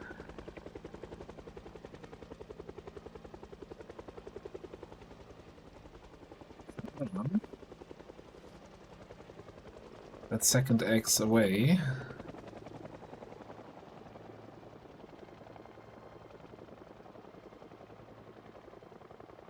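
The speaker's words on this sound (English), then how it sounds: "A big factor will also be how long this helicopter is." Helicopter in the zombie survival game Project Zomboid, a steady droning rumble running through the scene, with louder bursts of sharp noise partway through and a person talking over it.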